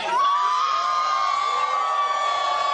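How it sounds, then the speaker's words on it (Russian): A crowd of fans in Vladivostok lets out a shrill, sustained scream that stays loud, steady and high-pitched for a few seconds. "Во Владивостоке толпа визжит."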